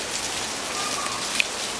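Rain falls steadily in a dense, even hiss of drops on surfaces, with one brief sharper drop standing out near the end.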